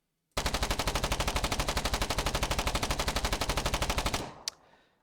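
Liar SMG submachine gun in the war game Foxhole firing one long sustained automatic burst of rapid, evenly spaced shots for about four seconds, then stopping with a single trailing metallic click or shot.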